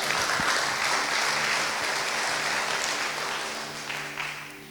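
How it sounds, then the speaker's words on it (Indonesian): A Sunday service congregation claps together in a loud burst of applause that gradually tapers off, with a few scattered louder claps near the end and no voices rising above it. "Tepuk tangan untuk Tuhan."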